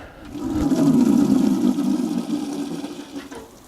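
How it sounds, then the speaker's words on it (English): Water from a watering can fitted with a fine rose sprinkles evenly onto freshly raked garden soil, a steady close-up patter rising quickly and holding for several seconds before tapering slightly. "I'm using a watering can with a fine rose on it, so it's nice and even."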